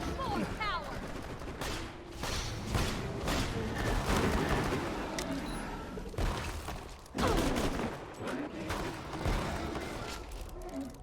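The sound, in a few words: gunfire in video game Borderlands 2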